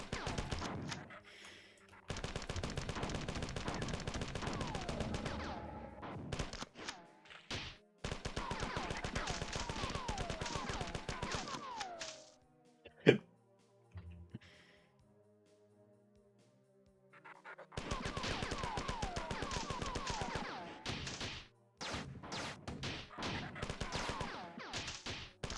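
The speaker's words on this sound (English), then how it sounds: "Marathon 2 ups the ante by letting you dual wield double barrel shotguns" Dual-wielded double-barrel shotguns blast in the video game Marathon 2, with several loud sharp bursts of rapid gunfire separated by quiet gaps and one isolated heavy shot in the middle, all close and loud with no talk.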